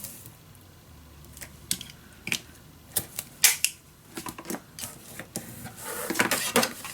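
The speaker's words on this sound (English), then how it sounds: "you're gonna put some tape on." Tape pulled and pressed onto a steampunk Christmas paper craft letter, a quick series of close sharp clicks, crinkles and tearing taps that build toward a louder sustained rip near the end, with no talking.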